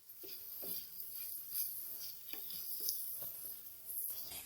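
Chicken with green chilies and fresh coriander is stirred on a hot tawa, giving soft scraping strokes over a faint, steady sizzle, quiet and close.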